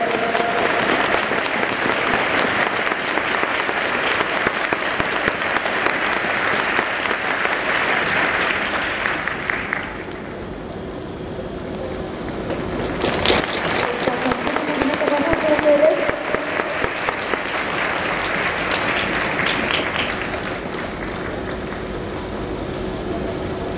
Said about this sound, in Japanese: 大きな拍手をお願いください。